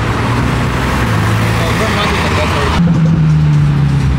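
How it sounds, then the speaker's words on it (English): A Lamborghini races along a road, its engine roar and tyre noise forming a loud, continuous rush that shifts to a deeper drone partway through, with voices faintly mixed in. "Eric's trying to race the Lambo."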